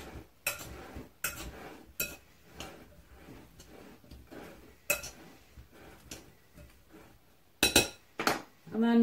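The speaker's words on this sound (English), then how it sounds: "Mix it all together." A grape and lemon zest salad is tossed in a bowl, with sharp clinks and taps of utensils against the bowl at irregular intervals and soft rustling in between, close up.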